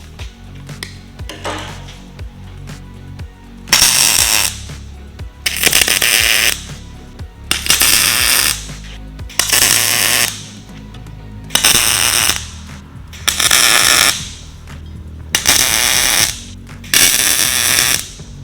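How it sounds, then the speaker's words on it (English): Short-arc MIG welding on steel sewer pipe caps: about eight loud, close crackling bursts, each lasting roughly a second, separated by brief quiet gaps over a low background hum, with no talking. "Alright, let's get them welded out."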